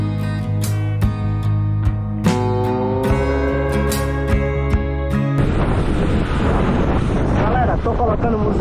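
Wind roars into the microphone on a motorcycle ride through Bahia, Brazil. Music plays loud at first, then a broad, rumbling gust of wind noise takes over for the last few seconds.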